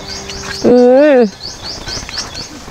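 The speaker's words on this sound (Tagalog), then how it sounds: "So dito may marinig din tayong mga huni-huni ng ibon." Birds chirp repeatedly in a mountain forest, with light high calls scattered throughout and one loud, sustained warbling note standing out near the start.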